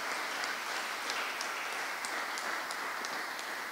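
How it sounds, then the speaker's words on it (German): An audience at a school award ceremony for a fair-trade class applauds steadily, a dense, fairly faint patter of many hands clapping heard from a distance without a break. "Ein Applaus für den Herrn Müller, schön"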